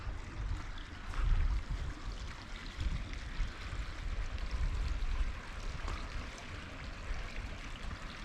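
A river in its upper reaches in the Cotswolds, the River Coln, flows steadily with a soft continuous rush and trickle, low and even throughout, with no voices.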